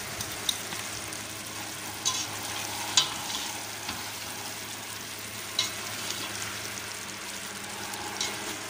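Eggplant pieces frying in hot oil in a pan, a steady close sizzle and crackle with occasional small pops and a light scrape from stirring, with no talking.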